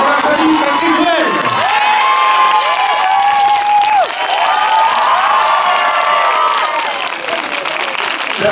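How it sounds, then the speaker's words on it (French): A crowd at a film premiere applauds Patrick Bruel with loud, continuous clapping, mixed with cheers and scattered whoops throughout. "On va applaudir Patrick Bruel."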